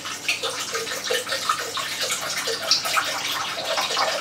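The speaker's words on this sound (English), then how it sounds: "I'm going to put some coconut water into the jug." Coconut water pours steadily into a blender jug, a continuous splashing, gurgling liquid flow heard up close with no talk, filling for about four seconds.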